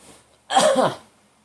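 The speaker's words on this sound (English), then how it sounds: "That was a hard as fuck sneeze." A single sharp, forceful sneeze bursts out close up, loud and abrupt, then fades into quiet.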